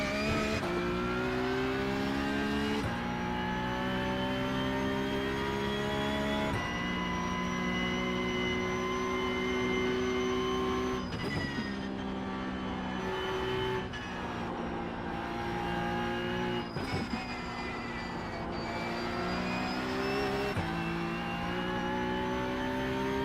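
Cup car racing on the Nordschleife in iRacing: a loud, continuous engine howl climbing through the revs and dropping at each gear shift, repeating steadily with no talk over it.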